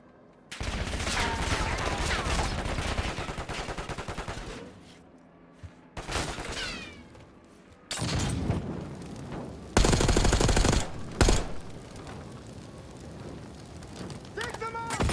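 Heavy gunfire in a Black Ops 6 battle, long bursts of rapid automatic shots with loud cracks and brief pauses, under shouted voices.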